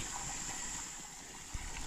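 Floodwater flowing through a rice field where frogs and native catfish have been washed out, a soft continuous rushing trickle close by with one brief knock near the end.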